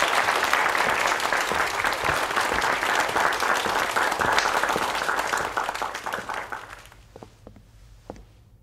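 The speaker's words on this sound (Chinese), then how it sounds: "我们掌声有请你们的师兄" An audience applauds to welcome a guest: steady, dense clapping that holds for about seven seconds, then thins out and fades to a few scattered claps.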